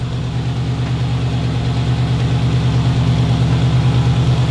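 A Chevy El Camino engine running smoothly at idle, a loud, steady low throbbing rumble close to the car with an even pulsing rhythm and no talk.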